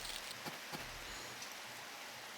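Steady rain hisses in a farming life-simulation video game, a soft, even broadband patter with a few faint low thumps near the start.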